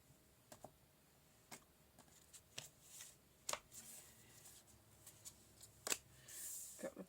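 Tarot cards shuffled by hand in a quiet room, a series of brief soft riffles and snaps at irregular intervals, with a few sharper flicks standing out against a low background.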